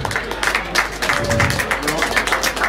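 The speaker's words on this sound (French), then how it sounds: "Des applaudissements pour sérieux ce soir" An audience claps steadily, a dense patter of many hands filling the room, with voices mixed in underneath.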